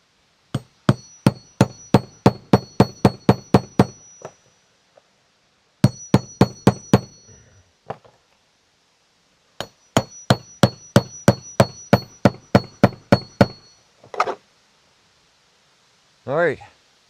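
A hammer drives a hook into wood with rapid, ringing taps in three quick bursts separated by short pauses, each run of strikes sharp and close, and a few odd scraping sounds near the end.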